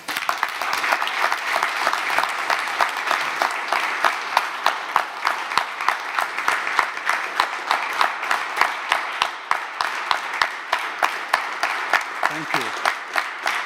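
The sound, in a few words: audience applause for summit speakers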